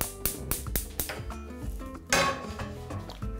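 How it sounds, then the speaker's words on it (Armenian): Metal cookware clanks and clinks several times in quick succession, a pan set down with sharp, close knocks and a louder clatter near the end. "Տապակը հայտնվում է կրակին։"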